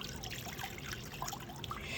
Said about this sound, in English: I've got about 2 3/4 cup of water right here that I'm going to add to this chicken base